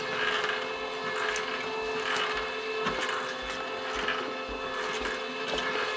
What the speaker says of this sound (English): Then here we have the conveyor belt.